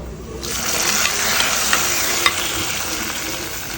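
Tempering of garlic, dried red chillies, mustard seeds, cumin and curry leaves hits hot oil for Andhra-style pumpkin stew, bursting into a loud, sustained sizzle with a few sharp pops and crackles, no voices.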